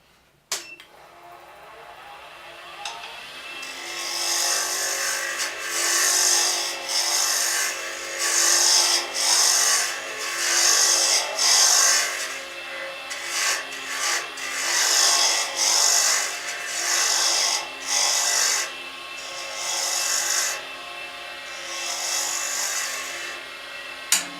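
A wooden pen blank being turned and tapered on a lathe gives a steady, close rasping hiss in repeated passes as the tool scrapes the spinning wood, with the motor whine running underneath.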